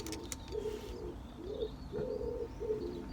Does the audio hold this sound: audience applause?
no